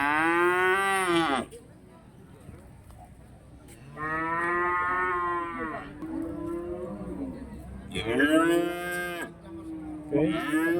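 Cattle at the Rogojampi livestock market in Indonesia give long, loud moos in several separate calls, near and clear, with quieter market murmur between them.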